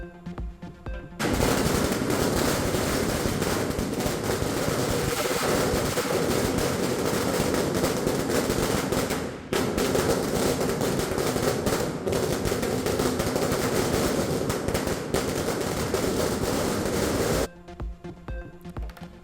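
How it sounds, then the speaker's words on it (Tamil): Dense, continuous crackling of Diwali firecrackers bursting in rapid strings, loud and sustained for over fifteen seconds with a brief gap midway, then stopping abruptly. "மத்தாப்பு, பட்டாசு உள்ளிட்ட வெடிகளை வெடித்தும் தீபாவளியை கொண்டாடிய பொதுமக்கள்"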